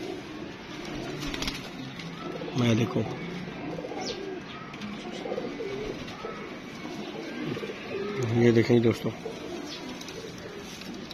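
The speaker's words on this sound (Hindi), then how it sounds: "बड़ी उम्र के कबूतर नहीं है कबूतर, ये उड़ा हुआ कबूतर है उनका।" Pigeons coo softly in a loft while someone talks about the birds, low repeated cooing rising in a couple of louder bursts beneath his speech.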